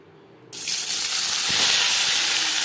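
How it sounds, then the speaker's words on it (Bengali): Small cubes of paneer hit hot refined oil, setting off a sudden loud, steady hiss of sizzling that holds close and even to the end. "নিরামিষ পনির তৈরি করার জন্য সবার প্রথমে পনির ভেজে নেব"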